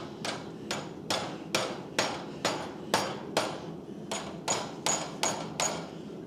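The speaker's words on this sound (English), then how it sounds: "Hand me the hammer." About fifteen sharp hammer blows land at a steady, even pace, each one a crisp, close strike with no talking in between.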